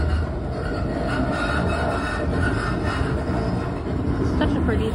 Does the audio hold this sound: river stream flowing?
no